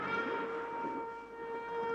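A moving train gives a faint, steady rolling rumble with a sustained tonal whine on top, heard as quiet background throughout.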